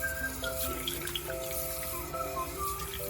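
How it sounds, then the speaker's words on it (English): Hot water runs from a kitchen tap into a sink being rinsed out, a steady close splashing stream with faint tonal ringing throughout, no talking. "Rinse the sink out with super scorching hot water."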